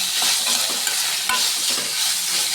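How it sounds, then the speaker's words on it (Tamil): Onions sautéing in a pan for mango pachadi, a steady close sizzle and frying crackle with light stirring scrapes and no voices. "கொஞ்சம் வதங்கட்டும்."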